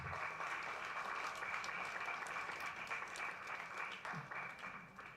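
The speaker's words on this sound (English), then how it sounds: "So yeah, you can clap for it." Audience applause fills a seminar hall during an entrepreneurship masterclass, a steady dense clapping at moderate distance that holds evenly throughout without pause.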